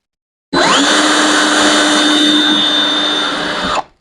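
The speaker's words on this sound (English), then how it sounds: "I'm going to pre-drill these holes" A power drill pre-drills holes in wood for a DIY handle, whining up sharply to a loud, steady high-pitched spin for about three seconds before winding down and stopping.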